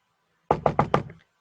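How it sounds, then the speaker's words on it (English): Four quick knocks on a door, evenly spaced and close, sharp and loud against silence. "Ready to knock?"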